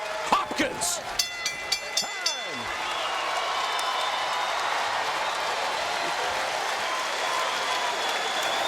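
Boxing arena crowd at the Bernard Hopkins vs Beibut Shumenov fight, a few distinct claps at first and then a steady, dense roar of cheering and applause filling the hall, with a commentator talking over it.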